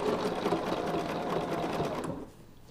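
Up close, a sewing machine hums and clatters in a fast, steady stitching rhythm while quilting a heart shape in a folk heart chain design, then winds down and stops near the end.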